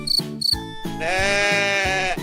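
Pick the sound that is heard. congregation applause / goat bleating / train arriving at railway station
goat bleating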